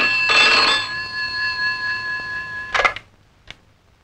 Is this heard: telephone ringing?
yes